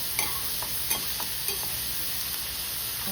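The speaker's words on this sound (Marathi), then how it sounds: "कांदा आपल्याला गुलाबी व्हायला द्यायचा आहे" Onion sizzles steadily in a hot pan while a spoon stirs it, with a few light scraping clicks over a continuous frying hiss, close up, for a quick Marathi breakfast vegetable dish.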